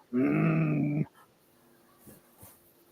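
A person imitates a dog's growl, giving one loud, sustained rough growl of about a second, followed by quiet faint rustling.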